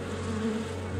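A swarm of cartoon bees buzzes steadily in a continuous droning hum at moderate loudness, with no talking over it.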